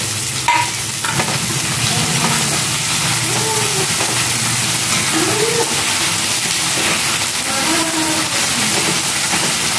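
Tomatoes tipped into a hot pan of fried onion and ginger set off a steady, close sizzle and hiss, with stirring scrapes running through it and no talking.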